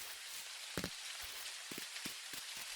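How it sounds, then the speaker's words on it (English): Steady rain falls in the Dinkum video game, a continuous broadband hiss with a few brief louder taps, with no talk over it. "Wasn't expecting rain today."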